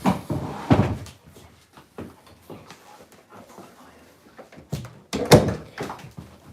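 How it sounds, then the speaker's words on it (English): A door is shut indoors with a couple of solid thunks and knocks, close and fairly loud, while someone talks intermittently around the bumps. "Close the door."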